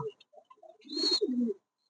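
A King pigeon gives a single clear, throaty coo up close, preceded by a few faint scattered chirps and then silence.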